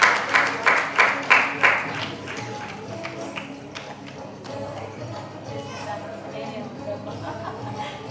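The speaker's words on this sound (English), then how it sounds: "big round of applause for Sita Mahalakshmi garu" A short burst of rhythmic clapping at a Mother's Day event, about half a dozen sharp claps in the first two seconds, then fading into a murmur of room chatter and voices.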